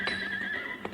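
A horse neighs loudly and close at a blacksmith shop while being shod, one long shrill whinny with a hoof knock near the end, alone without talk.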